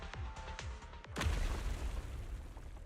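An explosion in the video game Zenless Zone Zero, a deep booming blast that follows a few rumbling thuds and then rolls on as a dense, low crumbling roar of collapse.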